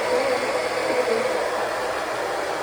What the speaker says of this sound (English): I brought my blow dryer because it has a cooling setting